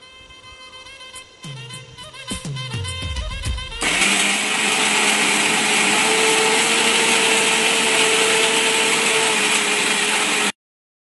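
Mixer grinder blending cooked tomato chutney in a jar: a few short clattering pulses first, then a loud, steady whirring grind that runs for several seconds and stops abruptly.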